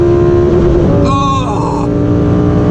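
Lamborghini Huracan Performante engine slamming against its rev limiter, a loud, sustained high-pitched wail with a rapid stuttering cut in the middle, heard close from inside the cabin at high speed.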